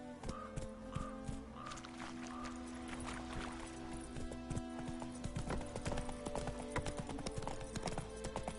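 Horse hooves clip-clop steadily in a video game, a rhythmic trotting patter that grows busier and denser toward the end, with no voices over it.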